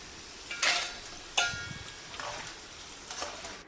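Jackfruit seeds fried crisp in oil, heard as a quiet background sizzle punctuated by a few sharp scraping clatters of a slotted spoon, spaced about a second apart, without talk.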